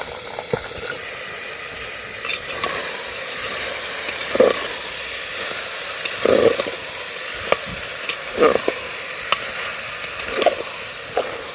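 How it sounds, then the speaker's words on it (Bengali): Potatoes and peas fry in a spiced masala for ghugni, with a constant close sizzle and hiss punctuated by repeated spatula knocks and stirring scrapes. "এর মধ্যেই আমি আলু মটরটা দিয়ে একটু কষিয়ে নেব"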